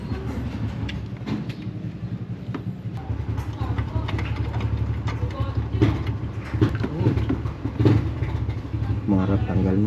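A motorcycle engine idles on its original muffler, a steady low rumble running through the whole stretch, with voices talking over it now and then.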